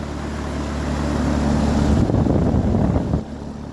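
A 2019 Carrier Comfort heat pump with an LG scroll compressor starts up in heat mode, a steady low mechanical hum and rumble that swells and roughens midway, then drops off sharply near the end, heard alone.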